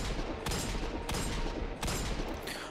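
Heavy pistol gunfire in Destiny 2: three loud, evenly spaced booming shots ring out close by over a dense, rumbling battle din.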